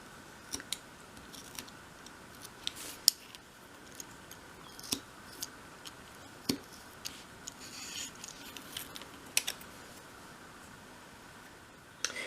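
Small cutting or snipping on a 1/12th scale dolls house wardrobe piece, a series of quiet, irregular clicks and snips spread over a soft background hiss, close by with no talking.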